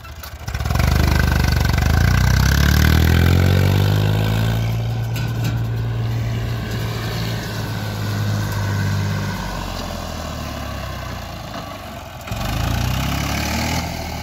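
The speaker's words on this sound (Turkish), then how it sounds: "Şimdi traktörüne binip yerine park etmek kaldı." A Massey Ferguson MF 135 tractor engine runs steadily at a tractor course competition, loud and close at first, its low drone easing slightly then picking up again near the end, with no voices.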